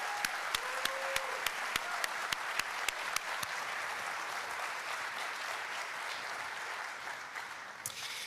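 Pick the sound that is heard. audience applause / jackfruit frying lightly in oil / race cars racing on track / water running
audience applause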